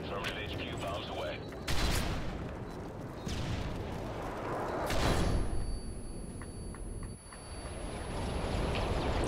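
Bomb run killstreak in Call of Duty Modern Warfare 3 lands as a string of heavy, rumbling game explosions with loud bursts and sustained booming, under a dense layer of other battle noise.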